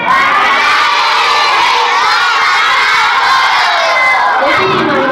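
A group of children at a school science fair loudly shouting a project name together in unison, a dense crowd cheer filling all five seconds.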